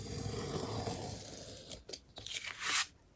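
Scissors or a blade slicing through a sheet of master board, a steady rough tearing scrape followed by a few sharper crunchy snips near the end, close and alone with no talking.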